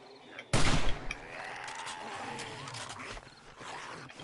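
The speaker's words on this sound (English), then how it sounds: "we just gotta use some exploding bolts" An exploding bolt from a crossbow in 7 Days to Die bursts with one sudden, loud blast, then a rumbling, crackling tail fades under quieter background noise.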